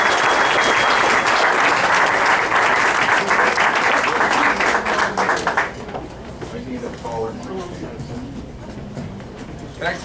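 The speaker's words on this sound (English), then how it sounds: "Another round of applause for Michael Peroutka, my friend." A political club meeting audience gives loud, dense applause that fills the first half and then thins out, with talk and crowd murmur continuing underneath.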